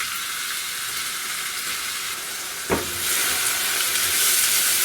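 Onions sizzle steadily in hot oil in a pan for minced meat with mixed vegetables, a dense close hiss with one brief knock midway, the frying growing slightly louder toward the end.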